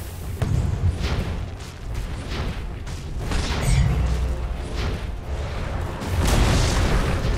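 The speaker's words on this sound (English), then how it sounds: "Dire's middle tower is under attack." Dota 2 match with a tower under attack, booming in-game explosions and bursts recurring throughout over a dense low rumble of battle effects, with no talk.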